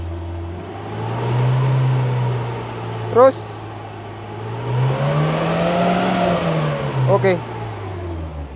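A car engine idles as a steady hum, then the revs rise and fall in a gentle swell to lift the RPM while a few short words are spoken over it.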